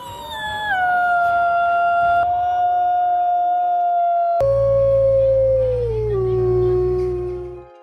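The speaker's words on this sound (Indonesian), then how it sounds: "Suara serigala lebih keras, lebih panjang, lebih menggema" A wolf gives a long, loud, echoing howl, a sustained tone that glides slowly downward. Partway through, a second, deeper howl joins it over a low rumble.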